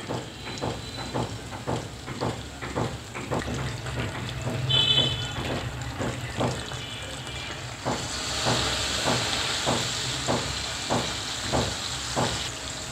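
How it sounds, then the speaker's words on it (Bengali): Onions sizzle steadily in hot cooking oil in a pan, a continuous close hiss broken by regular soft scraping strokes of stirring, growing slightly brighter toward the end. "দিয়ে দিচ্ছি রান্নার তেল, দিয়ে দেব পরিমাণ মতো পেঁয়াজ। পেঁয়াজটা আমি একটু ভেজে নিব।"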